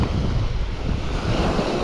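Ocean surf washes in steadily along the shore where people are fishing, a continuous rushing roar mixed with gusty wind buffeting the microphone.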